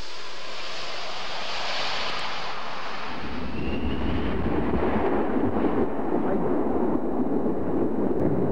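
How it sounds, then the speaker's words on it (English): Air France Airbus A320 jet on its maiden flight making a low fly-past, a broad roaring jet rush that swells and thickens through the clip and stays loud and steady to the end, with no voices. "Air France's first fully operational A320 took off on its maiden flight. First, it had to make a fly-past for the world's press."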